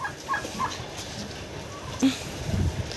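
Short, faint turkey gobbles come in quick bursts at the start, with scattered rustling and a few soft thumps afterward.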